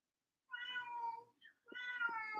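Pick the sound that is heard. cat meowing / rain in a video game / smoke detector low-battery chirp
cat meowing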